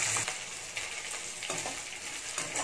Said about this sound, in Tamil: பூண்டு, பச்சை மிளகாய், கருவேப்பிலை போட்டுட்டு இப்போ அதை நல்லா வதக்கிடணும்.